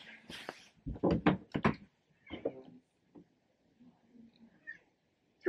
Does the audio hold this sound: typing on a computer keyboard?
no